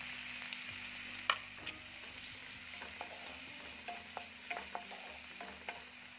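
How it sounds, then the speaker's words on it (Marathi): Finely chopped onion frying in butter for chicken hariyali makes a quiet, steady sizzle with a low hum beneath and scattered light clicks and taps of stirring, no voices. "तर हे गरम झाले की यामध्ये मी टाकत आहे बारीक चिरलेला कांदा। कांदा आपल्याला छान भाजून घ्यायचा आहे सोनेरी रंगापर्यंत।"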